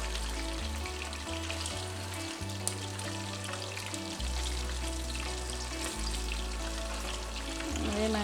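Chicken lollipops fry in a pan with a dense, steady sizzle and crackle, close and loud throughout, over a low background drone.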